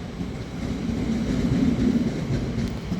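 A passenger train on a cross-country service to Basingstoke in England, a steady low rumble and rolling wheel noise heard from inside the carriage, continuous and fairly loud, no speech.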